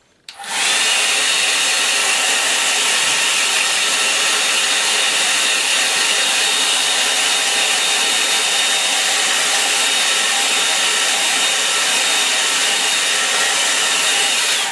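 A hair dryer switches on abruptly and runs at a loud, steady whine and rush of air for the whole stretch, drying a watercolour line-and-wash painting of a snowy Kent scene.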